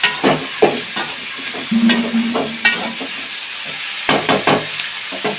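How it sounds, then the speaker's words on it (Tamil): Tomatoes frying in sesame oil with curry leaves and coriander are stirred in a pan, giving soft sizzling and repeated scraping strokes of the spoon, close and fairly loud, with no voices. "தக்காளி நல்லா கிளறி விட்டுருங்க."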